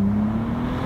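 A Bentley Continental GT W12 convertible downshifts into second gear, its engine giving a low, steady burble up close with a strong sustained tone throughout the short moment.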